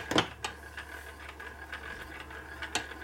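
A camshaft in a 1961 Harley-Davidson Sportster XLCH engine under rebuild rubs against a cocked thrust washer, giving faint, close mechanical scraping and ticking with a few sharper clicks in a quiet shop.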